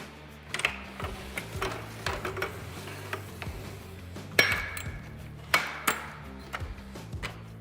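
A Little Giant Conquest fiberglass ladder's hinge locks click and clack as they are adjusted, giving a series of sharp mechanical knocks and ratchety snaps at an uneven pace, fairly close and moderately loud with no talk.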